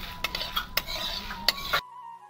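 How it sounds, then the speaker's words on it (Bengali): Dried chillies, coriander seeds and cumin are dry-roasted in an oil-free pan. A spatula scrapes and clinks against the metal in quick, uneven strokes, then the sound stops abruptly into silence. "লঙ্কা আর হচ্ছে ধনে আর জিরেটা আমার ভাজা হয়ে গেছে"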